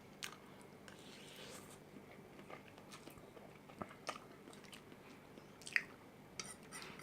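Spicy noodles are eaten up close in a quiet room: soft, wet chewing and occasional small bites and crunches come in an uneven rhythm, faint overall with one sharper click near the end.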